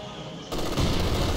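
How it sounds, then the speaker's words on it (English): Mortar shot in the Company of Heroes 2 video game, a sudden loud blast that jumps up midway and rolls into a dense, sustained rumble of battle noise. "that was a nice mortar shot, Norby."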